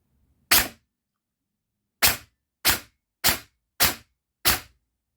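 Sharp, snappy shots from an airsoft gun fitted with a Titan drop-in unit, fired one at a time on semi-auto: a single shot, a pause, then five evenly spaced shots in a steady rhythm.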